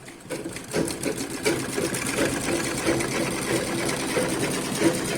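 A sewing machine runs steadily, stitching a cross-cut blouse, its rapid needle rhythm continuous and close for about five seconds with no voices over it.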